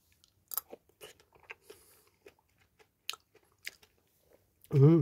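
Crunchy, wet chewing of sale-bought kiwi fruit at a close-up eating session, with several bites spread across the stretch and a louder burst near the end. Quiet talk comes and goes between the bites.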